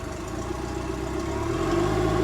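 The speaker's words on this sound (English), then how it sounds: "I'm gonna give it a little bit of revving." A 2014 Mercury 150 outboard motor idles, then is revved slightly, a steady close mechanical hum rising a little in pitch and loudness over two seconds.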